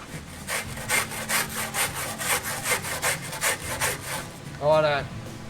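Rhythmic scrubbing of dirty truck tyres with a brush, steady back-and-forth strokes repeating about twice a second, close and fairly loud, with a brief voice near the end.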